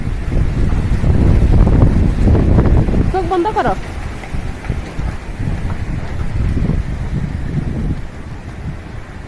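Strong storm wind roars and buffets the microphone during heavy rain, loud and continuous, with brief bursts of nearby speech over it.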